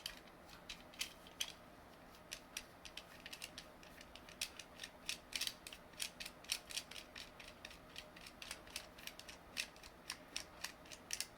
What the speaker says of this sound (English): So we take out the screws.